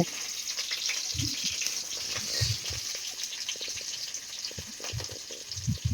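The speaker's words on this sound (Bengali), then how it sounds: "এই আমরা পনির ভেজে নিচ্ছি লাল লাল করে পনির ভাজা হচ্ছে" Paneer pieces fry in a pan, giving a steady, fairly loud sizzling hiss that runs throughout, broken by a few soft low bumps and spatters.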